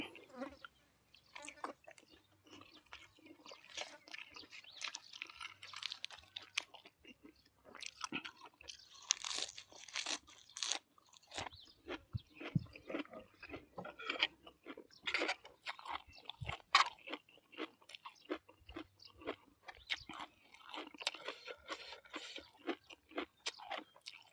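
Mushroom larb made with straw mushrooms, fermented fish sauce, lime and chili is eaten up close, with continuous crisp crunchy chewing and bites at a quick irregular pace, and a few soft vocal sounds between mouthfuls.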